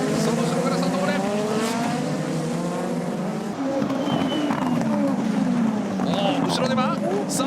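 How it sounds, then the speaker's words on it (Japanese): Super Formula race cars fight side by side at Fuji Speedway, their high-revving engines whining and shifting pitch as they pass, loud and continuous, with a commentator talking excitedly over the noise. "サイドバイサイドで立ち上がって 牧野いった。"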